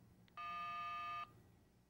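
Keypad tone from a Motorola Model 27722 cellular telephone, a single steady dual-pitch beep lasting close to a second, clear and up close over faint background hiss, with a short tick just before it.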